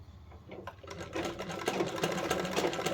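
Sewing machine stitching a zigzag seam, a rapid continuous mechanical chatter that starts softly and grows steadier, close and fairly quiet with no talking.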